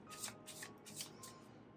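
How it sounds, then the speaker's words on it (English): Oracle cards being shuffled by hand, close and quiet, in several short riffling bursts with brief pauses between them. "I am shuffling the frequency energy card"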